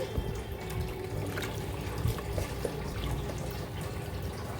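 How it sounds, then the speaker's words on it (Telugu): About two glasses of water pour steadily into a pot of country chicken curry for several seconds, a continuous close gushing splash with no one speaking. "నేను టూ గ్లాసెస్ దాకా వాటర్ వేసుకుంటున్నాను"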